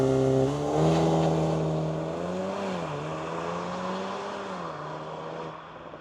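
A VW Golf R Black Edition launching from a standstill in race mode with ESC Sport, its engine loud and close, pitch climbing through the revs and dipping at a gear change before pulling on strongly.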